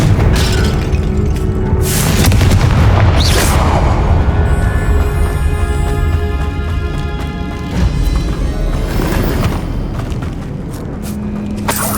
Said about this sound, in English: Confringo!